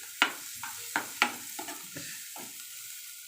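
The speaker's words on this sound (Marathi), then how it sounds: "कांदा मऊसर होईपर्यंत आपण परतून घ्यायचा आहे" Onion sautéing in oil in a pan for Mumbai-style pav bhaji: about eight close spatula scrapes and stirs over a steady sizzling hiss, with no voices.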